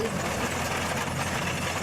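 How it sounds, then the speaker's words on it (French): A heavy engine of a Laffly medium artillery tractor towing a 75 mm gun runs steadily at a constant rumbling idle, close and continuous, with no voices. "C'est un tracteur d'artillerie moyen qui tracte actuellement une pièce de 75."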